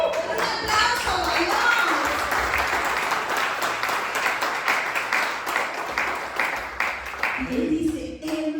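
A church congregation applauds, a dense, steady wash of clapping that fills the space, with voices talking and calling out over it and a few louder shouts near the end.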